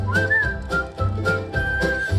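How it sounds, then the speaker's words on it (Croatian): A melodic whistled tune carries a song line in clear sustained notes over a rhythmic musical accompaniment with steady beats. "Zviždi pesmu tu."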